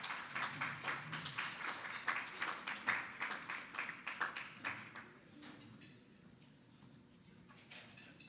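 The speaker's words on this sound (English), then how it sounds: "Let's give another round of applause to Kevin and Nancy." Audience applause at a morning business networking event, a burst of scattered clapping that builds, then fades out and leaves a quiet room with a few stray claps.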